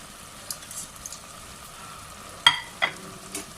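A spoon stirs carrot halwa with pistachios and almonds in a pan: soft sizzling and scraping runs steadily, with a few sharper clinks and scrapes standing out near the end.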